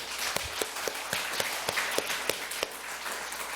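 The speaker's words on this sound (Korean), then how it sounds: "한번 감사 박수로 영광 드리도록 하겠습니다" A church congregation claps in thanks during an anniversary worship service, a soft steady patter of many hands with a few sharper individual claps standing out, heard from a distance in a reverberant hall.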